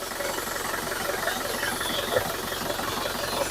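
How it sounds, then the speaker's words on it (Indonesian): A 2013 Isuzu Panther Grand Touring engine idling with the oil filler cap and dipstick opened, giving a steady, even mechanical chatter and hiss at moderate volume, with no talk over it. "Untuk suara mesinnya seperti ini ya."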